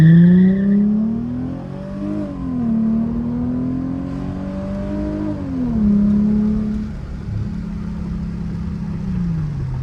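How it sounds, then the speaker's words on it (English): A Chrysler Crossfire engine held against the brakes while brake torquing, revving in a loud, close, sustained drone that rises and falls in pitch several times, with no voices. "Brake torque brake all the way down, brake torquing it."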